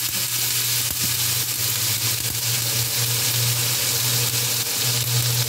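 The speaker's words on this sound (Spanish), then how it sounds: "Aquí voy a agregar el tomate." Tomato fries in a hot pan, a continuous loud sizzle with crackling spatter and a low hum underneath, lasting throughout with no voices.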